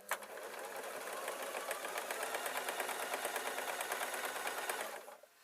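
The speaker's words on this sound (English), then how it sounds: "in one long stitch I'm going to sew down the front and then round the back" A sewing machine runs one long continuous stitch through a fleece seam on a sleeping top, a steady close rapid mechanical whir with even needle pulses for about five seconds before stopping abruptly.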